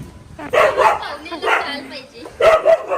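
A dog barks in three short bursts nearby, mixed with yips and excited whines, with voices around it.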